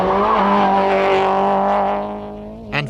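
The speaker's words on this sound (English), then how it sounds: "The Toyota is undoubtedly fast, but does not handle the bumps so well." A Toyota rally car at the 1992 Donegal International Rally roars loudly and close over a bumpy stage, its engine note holding high before easing off, with a short thump near the end.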